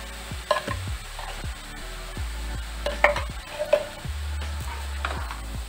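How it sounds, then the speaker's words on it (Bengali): Vinegar and ground pepper being stirred into fried rice in a hot restaurant-style pan, a spatula scraping and clanking in repeated close strokes over a light sizzle. "এগুলো ভালো করে মিশিয়ে দেবো।"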